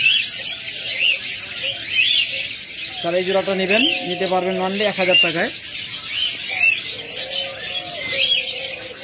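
Caged budgerigars and cockatiels, kept as breeding pairs for sale, chirp and twitter steadily in the background while someone talks over them throughout, with a brief tonal sound in the middle.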